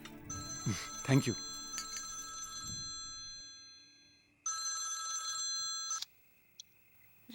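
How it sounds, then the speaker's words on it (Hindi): A telephone rings with a bright electronic tone in bursts, first under a woman's speech, then alone in a quiet room before cutting off. "रघु मेरा फोन क्यों काट रहा है?"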